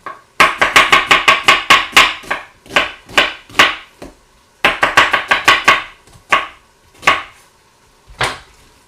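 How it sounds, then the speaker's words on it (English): An onion being cut into big pieces with a knife on a board, rapid bursts of loud close chops in quick runs with short pauses between, no talk. "Alright, so next we're going to chop this onion."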